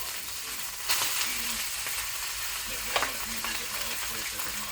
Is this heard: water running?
no